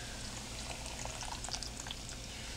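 A cornstarch and water slurry pours into simmering pot roast liquid in a crockpot, giving a soft, steady bubbling and gentle liquid trickle, fairly quiet and with no talk.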